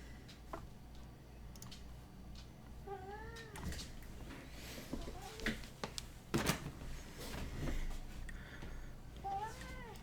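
A cat meows a few times, with soft rising calls near the start and again at the end over a steady background hum and scattered clicks.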